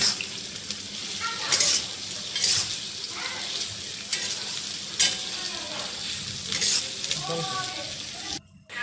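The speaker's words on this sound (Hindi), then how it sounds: "अब कढ़ाई में 100 ग्राम रिफाइंड ऑयल गरम करके उसमें लौंग, दालचीनी, इलायची डालकर प्याज डाल देंगे" Onions sizzle loudly in hot refined oil with cloves, cinnamon and cardamom in a kadai, with close scraping and stirring strokes over the crackle and a voice heard faintly at times.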